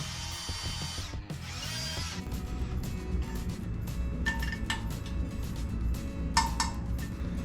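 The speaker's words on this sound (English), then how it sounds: "Let's stir it." Mead being stirred in a container, heard as a steady mechanical whirring with bursts of louder churning and occasional clinks against the vessel, close and continuous with no talk.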